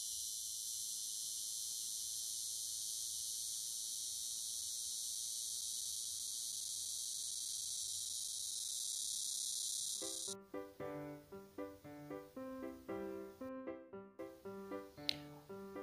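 A cicada sings in a loud, continuous high-pitched buzz for about ten seconds, then stops abruptly as a plucked melodic tune begins.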